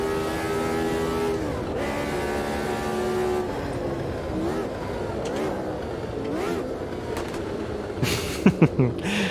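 Simulated engine of a DFY Formula Retro Gen 3 race car in Automobilista 2, droning and shifting through gears with a clear harmonic whine, then sharp bumps and revs near the end, with a voice talking intermittently.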